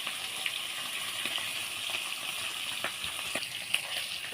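Hilsa fish fry in a small amount of oil, giving a soft, continuous sizzle scattered with faint pops and crackles, moderately close, with no talking.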